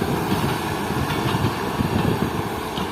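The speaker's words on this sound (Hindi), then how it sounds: "तो काफ़ी रंग बिरंगे रेक के साथ फाइनली शाह लतीफ़ एक्सप्रेस निकल चुकी है" Shah Latif Express train pulling out of Dabheji station, a steady broadband rumble of rolling railcars with faint rhythmic wheel clatter, heard from close by and continuous with no voices.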